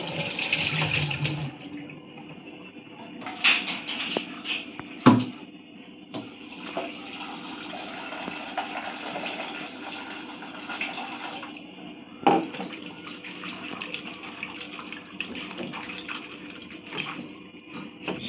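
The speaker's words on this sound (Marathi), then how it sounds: "शेवग्याच्या शेंगा या दोन पाण्याने स्वच्छ धुवून घ्यायच्या" Two drumstick pods are rinsed clean in water, with running water from a tap splashing steadily and brief clattering knocks against the vessel throughout; no voices.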